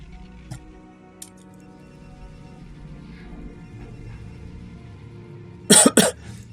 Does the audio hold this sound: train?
no